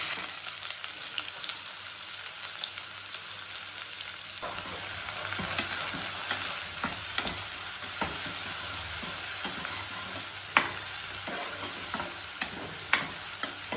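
Onions sizzling in hot oil in a pan after paneer was fried, with a steady frying hiss and intermittent scraping stirs and clinks, fairly quiet and with no talking.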